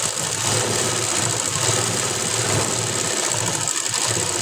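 Steady, continuous whir of a sewing machine running while stitching a blouse, a close mechanical hum with an even rhythm and no pauses or voices.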